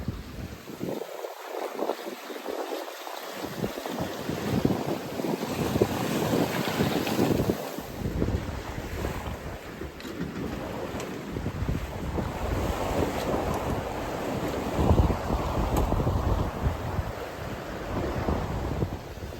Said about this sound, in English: The waves suddenly picked up.